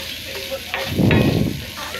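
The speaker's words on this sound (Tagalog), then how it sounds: "Gisa-gisa lang din yung mais na yan." Corn kernels sautéing in a pan, a short burst of close sizzling and stirring that swells briefly and then eases back into a low crackle.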